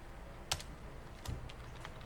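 Sparse, quiet keystrokes on a computer keyboard as a password is typed, a few isolated clicks against a low background hum.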